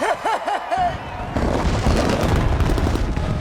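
A loud burst of rapid gunfire in a film scene, sharp repeated shots blending into a continuous rattle after a brief musical tone at the start.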